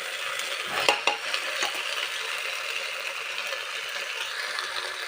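Pulao frying in a pot is stirred, giving a steady close sizzle with a few sharper scraping knocks of the spoon near the start.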